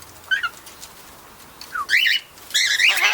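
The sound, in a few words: corellas and cockatiels calling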